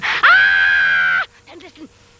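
A woman's scream in a stage performance of Beckett's play Not I, one loud sustained shrill cry of about a second that cuts off abruptly, followed by a few faint breathy vocal sounds.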